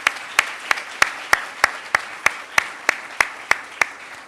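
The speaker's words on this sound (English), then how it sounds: "let's give another round of applause to Jesus" An audience at a health behavior and health equity symposium applauds a speaker, with a soft bed of clapping punctuated by sharp, evenly spaced louder claps that keep a steady rhythm throughout.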